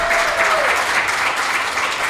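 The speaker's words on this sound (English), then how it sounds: "I'll give a round of applause for Jody Stephens." A radio-show studio audience gives a brief round of applause after an interview with Big Star's Jody Stephens, steady clapping that fills the moment.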